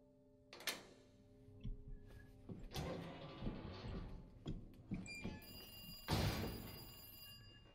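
A telephone ringing in the Resident Evil 2 Remake video game, a series of bright metallic bell bursts with gaps between them, mixed with other in-game thumps and clatter, fairly faint overall, with no talk.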